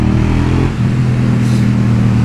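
A KTM 790 Duke motorcycle engine decelerates under engine braking, a loud, close, rumbling drone that sags briefly and then holds steady without any voices.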